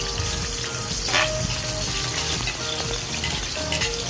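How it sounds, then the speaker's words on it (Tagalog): Close, steady sizzle of white and red onions frying in hot oil in a pan, with bright crackles and a few faint clinks over the hiss and no talking. "Naglagay na nga ako ng mantika sa mainit na kawali. At sinunod ko na nga rin yung sibuyas na puti at sibuyas na pula."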